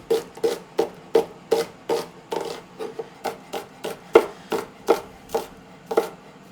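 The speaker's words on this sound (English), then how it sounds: "And these I'll just cut in little half rings for the pasta, for the stir fry, for the quesadillas." Vegetables being sliced into half rings with a knife on a board, a regular run of crisp, close chopping taps about three per second, steady and without talk.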